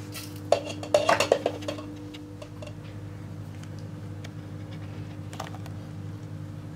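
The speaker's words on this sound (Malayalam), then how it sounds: "അതിനുശേഷം ഇത് നന്നായിട്ട് മിക്സ് ചെയ്ത് എടുക്കാം." A spoon briefly clinks and scrapes against a bowl while shawarma filling is mixed with pepper powder, a quick cluster of close taps early on, then only a steady low room hum.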